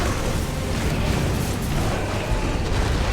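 Explosion in the Final Fantasy 16 video game, a dense, sustained roaring blast of broadband rumble filling the whole stretch at steady loudness.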